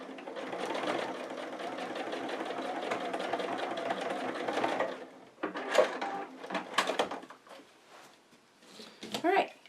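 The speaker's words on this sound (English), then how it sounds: "let's head over to the sewing machine, and on the raw edge side here, we're going to stitch right across the bottom through the bulky layers" A sewing machine stitches through bulky folded fabric layers while making a scissors keeper, its steady motor hum running for about five seconds before stopping, followed by a few short bursts of stitching and handling noises.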